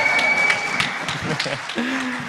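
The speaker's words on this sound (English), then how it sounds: "Big applause." A conference stage audience breaks into applause, a dense patter of clapping heard under a speaking voice.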